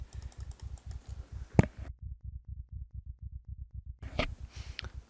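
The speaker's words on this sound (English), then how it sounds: "You can hear the heart beating." A steady, muffled heartbeat in the video game Project Zomboid thumps in a regular quick rhythm throughout, with a couple of brief sharp clicks and a short stretch where other sounds drop away.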